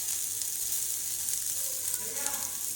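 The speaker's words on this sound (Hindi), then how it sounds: "ये देखिए अब थोड़ा सा प्याज भूनते हैं।" Onions sautéing in a pan with a constant, even sizzle that stays close and steady throughout, with no speech over it.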